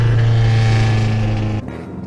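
A car drives alone at night with a steady, loud engine hum and road rumble heard from inside, holding constant before dropping away abruptly near the end.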